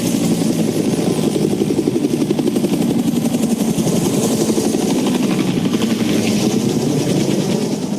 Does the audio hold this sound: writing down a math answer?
no